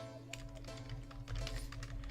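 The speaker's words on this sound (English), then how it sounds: "sorry, typing to somebody right now." Rapid keyboard typing with irregular clicks over a steady low hum, close by and moderately quiet.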